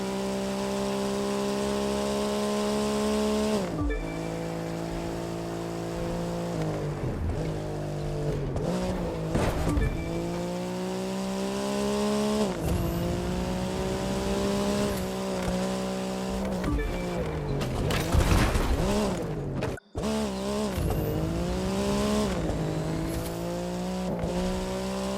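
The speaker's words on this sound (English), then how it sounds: "Those engines are gonna make for a loud wake-up call if anyone's sleeping in this resort area today." Racing car engines roar continuously in The Crew 2 video game, loud and close, with shifting revs, gear changes and tire squeals through a resort area, with no talking over them.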